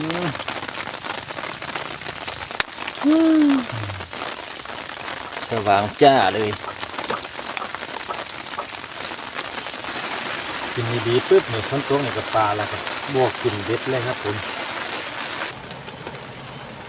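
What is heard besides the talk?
rain falling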